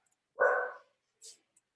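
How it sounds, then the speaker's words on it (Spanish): A single short dog bark sounds indoors at moderate distance, followed by a faint brief yip, with silence around them. "Mis perros están muy latosos,"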